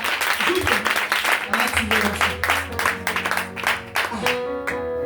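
A church congregation at a national gospel vigil applauds Jesus, brisk rhythmic clapping from many hands filling the room alongside voices and shouts, loud and continuous.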